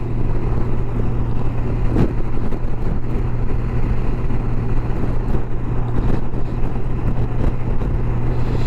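Wind roars and buffets around a rider on a motorcycle on a highway, with a low steady engine drone and gusty turbulence from a truck and other traffic nearby.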